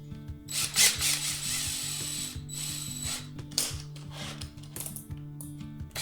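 A drill chuck ratchets tight on a 3/16 inch drill bit, a loud, close mechanical clicking in repeated bursts over several seconds, with no talk.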